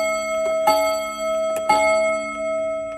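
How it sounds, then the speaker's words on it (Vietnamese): A Japanese mechanical pendulum clock with two gongs and two hammers strikes its half-hour chime, two clear metallic gong hits ringing out with long sustained tones, close and alone. "Đấy, của chuông gõ này."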